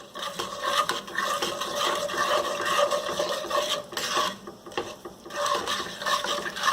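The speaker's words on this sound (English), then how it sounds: "Once you hear the sizzling sound, we can add our other ingredients." Mustard and cumin seeds sizzle in a hot pan for lentil dal, a soft continuous crackling hiss with small scraping stirs, fairly quiet and steady with no talking.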